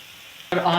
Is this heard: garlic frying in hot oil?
yes